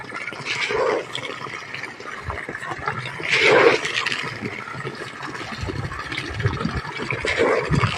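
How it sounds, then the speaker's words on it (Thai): Water runs steadily from a solar-powered pump in a garden, a continuous rushing flow close by with a brief louder surge. "ตอนนี้ก็กำลังเปิดน้ำใส่อยู่ครับ"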